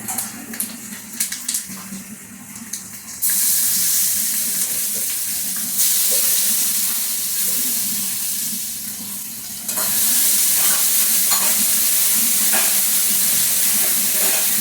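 Fenugreek seeds crackle in hot oil before ground spice paste goes in for a hilsa dried-fish curry with stalks and potato; a soft crackle jumps to a loud, steady hiss that dips briefly, then surges again, close by.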